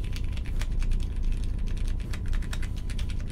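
Rapid, close clacking keystrokes on a Polaris mechanical keyboard fitted with Zealio v2 switches, a dense uninterrupted typing patter with no voices.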